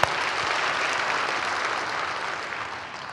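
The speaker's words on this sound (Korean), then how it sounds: "우리 하나님 앞에 영광의 박수 한번 돌립시다" Steady congregational applause fills a church sanctuary during a Korean Full Gospel sermon, dense clapping from a sizable crowd lasting a few seconds at an even level.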